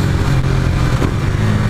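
A KTM Duke 390 motorcycle engine runs loud and close, a dense, steady mid-pitched drone with slight rises in revs across the short stretch.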